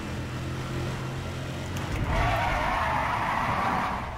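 Tires squeal on a car in the racing game Need for Speed World, a steady engine drone underneath that swells into a broader, louder screech partway through and holds to the end.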